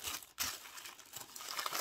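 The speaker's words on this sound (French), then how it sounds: "c'est forcément un petit peu de bruit les papiers" Close, continuous crinkling of paper wrapping with a brief pause, the rustle rising and falling as it's handled.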